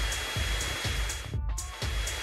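A vacuum cleaner roars steadily during a hurried Black Friday shopping scene. The motor hum pulses with regular thumps about twice a second, and there is a short dip near the middle.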